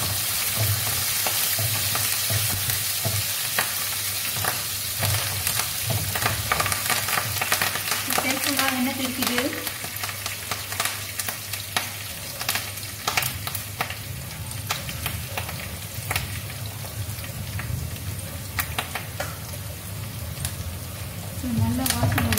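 Curry leaves crackle and sizzle as they fry in hot oil for a fish curry with pak choy, a steady, close, dense spattering that runs the whole time with some faint voice behind it.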